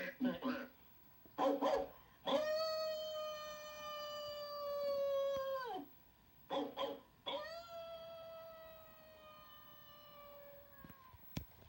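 Animated dogs bark and howl at night, with short clusters of barks and long drawn-out howls that slide downward, fairly close and repeated several times.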